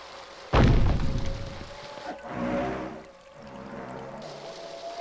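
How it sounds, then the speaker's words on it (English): Water rushing through a hole in The Dig adventure game, a sudden loud gushing burst that settles into a steady pouring roar with a faint low tone, no talk. "Water is pouring through that hole at a tremendous rate."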